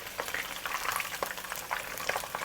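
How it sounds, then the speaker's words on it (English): Spiced chicken pieces for Malaysian ayam berempah fry in a shallow layer of oil at medium heat, giving a steady, fairly quiet crackling sizzle with small pops throughout. "I'm not using too much oil, but the oil must at least cover half the chicken itself. I'll continue to fry"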